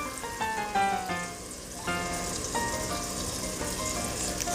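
About 25 medium shrimp sauteing in butter and garlic in a pan give a steady, close crackling sizzle that swells and softens, with light clinks from utensils and no talking.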